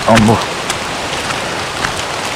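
Steady rain pours through a dense deep forest, a continuous close hiss of drops on leaves, with a brief voice at the very start.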